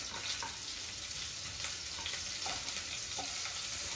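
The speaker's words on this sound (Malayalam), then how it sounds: "അപ്പൊ നമ്മള് നെക്സ്റ്റ് ക്യാരറ്റ് ആഡ് ചെയ്യാം" Carrots stir-fried with broccoli and chicken in a pan give a constant dense sizzle and crackle at moderate level, with occasional light scraping from stirring.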